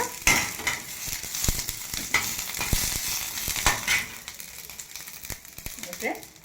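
Garlic and curry leaves fry in hot oil, giving a steady close sizzle with bursts of crackle and stirring scrapes throughout.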